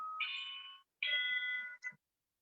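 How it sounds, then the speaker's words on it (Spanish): An electronic doorbell rings with two clear, sustained chime tones and a short final note, fairly faint and with no talk over it. "ya está tocando el timbre"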